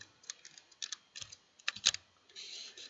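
HTML code being typed on a computer keyboard, with quick close clusters of soft key clicks in irregular bursts, quiet overall with one louder keystroke near the end.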